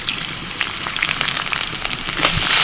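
Grated ginger drops into hot oil and fries with a steady, crackling sizzle that builds slightly louder toward the end; no one talks over it.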